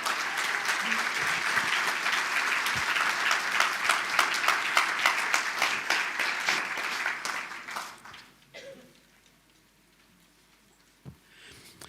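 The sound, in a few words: congregation applauding in church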